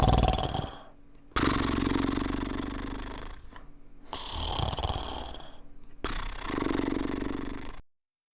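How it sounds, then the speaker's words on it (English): Man snoring heavily while asleep, long rasping snores in a steady rhythm, loud and close, with brief quiet gaps between breaths. "he dropped off to sleep and began to snore"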